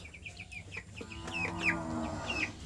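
Broiler chickens in a small coop cluck and squawk in quick, overlapping bursts close by, with sharp rising calls over a steady background hum.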